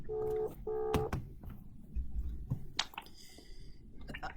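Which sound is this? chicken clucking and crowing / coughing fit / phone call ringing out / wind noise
phone call ringing out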